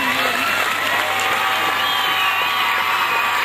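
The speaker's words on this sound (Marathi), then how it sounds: "सर्वांनी टाळ्या वाजवून अभिनंदन करायचं आहे." A school hall audience at a Parents Day function applauds steadily, a dense continuous wash of many hands clapping with faint crowd murmur underneath.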